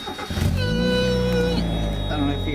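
A Mazda Miata engine starts up and settles into a loud, steady exhaust drone with a rising harmonic as it catches, close by and continuous.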